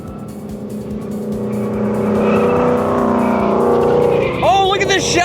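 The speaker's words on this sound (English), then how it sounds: "this Mustang sounds good." A Ford Mustang engine rumbles nearby, its note rising steadily in pitch and loudness over several seconds before sharp, squealing high tones cut in near the end, with voices heard over it.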